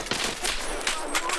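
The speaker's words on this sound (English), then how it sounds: "Grenade launched." Grenade launcher fire and explosive blasts in Escape from Tarkov PvE, a dense burst of loud booming shots and gunfire with a faint voice mixed in.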